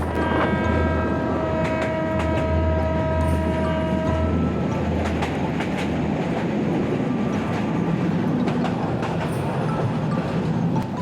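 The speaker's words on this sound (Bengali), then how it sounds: "ট্রেনটি সেই কলেজের গেটের সামনে দিয়ে স্টেশনের দিকে যাচ্ছে" A train rolls steadily along the rails past a college gate toward a station in the rain, with a continuous loud rumble and rhythmic clatter, a sustained tonal hum fading out early on.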